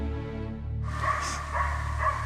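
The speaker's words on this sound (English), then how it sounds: "We've got dogs all the way around." Hunting dogs bark during a wild boar hunt, several yelps and bow-wows carrying in bursts over a steady low rumble, moderately close and without talk.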